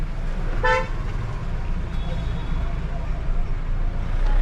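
A short car horn toot sounds once over steady heavy traffic and street noise in India, brief and fairly close.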